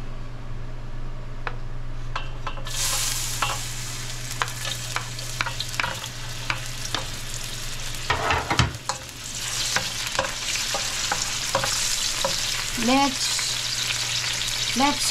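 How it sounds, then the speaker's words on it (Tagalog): Garlic sizzles steadily in hot oil in a pan, a constant frying hiss with scattered clicks of a utensil stirring and scraping throughout, close and fairly loud, with no talking. "Let's cook the garlic until it's crispy brown"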